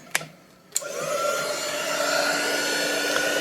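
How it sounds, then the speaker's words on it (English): A heat gun warming up to lift a sticker off game cover art, starting with a couple of sharp clicks and then a steady, close airy whoosh and hum that runs on unchanged, with no one speaking. "It'll take a second for the heat gun to heat up"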